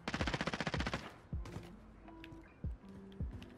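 Rapid automatic fire from a video game gun opens in a fast burst of about a dozen shots, then breaks into a few scattered single cracks over faint mechanical game sounds.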